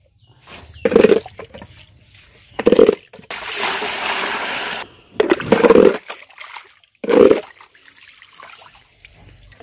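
Water splashes in short, irregular bursts while something is rinsed and washed by hand, with a longer steady pour in the middle and quiet gaps between bursts.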